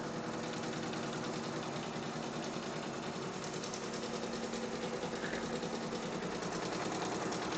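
A computerized embroidery machine stitches out a Bread of Life design for a nativity tree skirt ring, a quiet, continuous rapid needle chatter with a steady mechanical hum.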